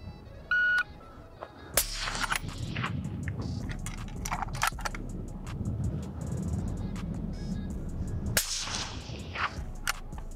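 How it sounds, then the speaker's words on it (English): A shot timer's sharp electronic test beep sounds once at an outdoor shooting range, followed by loud rifle shots from a 6.5 Creedmoor with rolling echoes and a further report near the end. "test beep"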